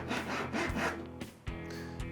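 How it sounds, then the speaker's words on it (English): Hand saw cutting wooden dowels flush in a birch plywood house-style bed, with steady back-and-forth strokes in close, loud bursts, then a pause and a few shorter strokes. "we opted for cutting the dowels"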